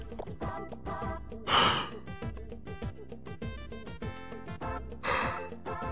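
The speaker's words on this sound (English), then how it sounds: "Yawns are taking over." A yawn from a gamer, a broad breathy swell rising and fading twice over steady background music, fairly close and alone without talk.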